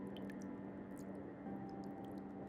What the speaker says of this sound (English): Do you hear that trickling sound? The water's rising, isn't it?